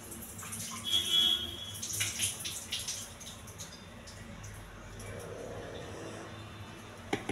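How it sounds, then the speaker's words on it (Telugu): Water splashing and trickling as red rice grains are rinsed by hand, with light clinks early on, fairly close and moderately loud, no talking. "రెడ్ రైస్ శుభ్రంగా కడిగి ఒకసారి కడగాలండి"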